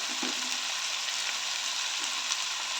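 Chicken sautéing in a pan for a chayote tops dish, giving a steady, close, continuous sizzle with faint scrapes and no talking.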